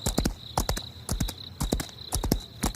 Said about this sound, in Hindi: घोड़ा भागता ही रहा